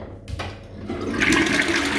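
A toilet flushes up close during a move-in inventory inspection of a rented home, a short rush of water that swells and keeps running steadily to the end.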